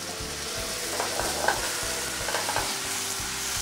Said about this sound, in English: we're gonna just add in just a touch of some vegetable stock